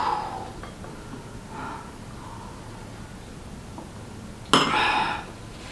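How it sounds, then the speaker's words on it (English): Flour batter for baked donuts being mixed in a bowl, with faint scraping throughout and a few scattered utensil clinks against the bowl, one sharper knock near the end, no talk. "And then you've got to mix this right up now"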